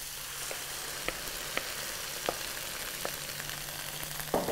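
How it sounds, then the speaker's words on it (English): Cabbage cooking in a hot pan, a dense steady sizzle with periodic soft clicks and scrapes from stirring, close by and unbroken. "So now we'll cook this for just another minute or two until the cabbage kind of softens up a bit more."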